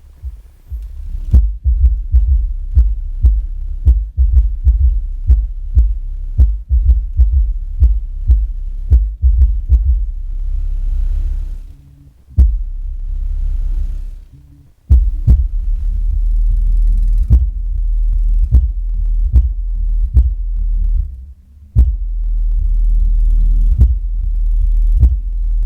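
Deep bass music from a Sony EXM 502 two-channel car amplifier driving only the subwoofer, no highs or mids; loud, steady thumping low beats pulse throughout, with two brief drop-outs partway, and no voices.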